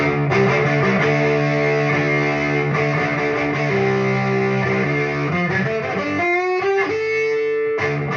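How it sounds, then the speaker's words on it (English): Electric guitar played directly through a distortion amp modeler with the speaker cabinet simulation switched off, giving a loud, continuous fizzy and buzzy sustained riff with bright harmonics, ending on a few sliding bent notes. "First, distortion amp modeler speaker cabinet simulator off."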